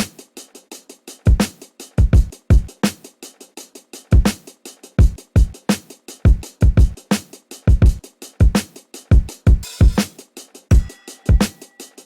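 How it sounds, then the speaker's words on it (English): A grimy boom bap drum beat programmed in Ableton plays alone: punchy kicks and cracking snares in a steady head-nodding loop, with a drum fill and a bell sound near the end. "So the drums all together sound like this."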